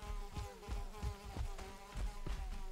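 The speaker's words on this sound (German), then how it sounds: "Oh ey, ich werd wahnsinnig mit dieser dämlichen Scheißmücke." A mosquito in the video game Valheim drones with a steady, tonal buzz, fairly quiet, over a run of regular low thumps like running footsteps, with no talking.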